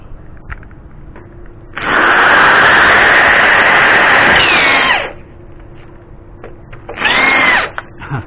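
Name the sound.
electric drill drilling into a wall, non-hammer mode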